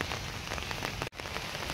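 Steady, dense rain patters loudly on a surface, an unbroken hiss of drops with a brief cut near the middle.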